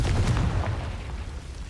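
A Confringo blasting curse explosion from Hogwarts Legacy, a single deep booming burst that rolls and fades over under two seconds.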